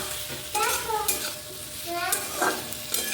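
Chicken with tomato and spices is stir-fried in a kadai, giving a steady sizzle with a spoon scraping and stirring in short bursts, close and moderately loud, with no talking.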